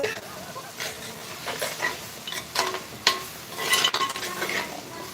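Goat head curry frying with ginger garlic paste in a clay pot, with stirring and utensil scrapes against the pot over a soft sizzle, close and steady, and a voice now and then in the background.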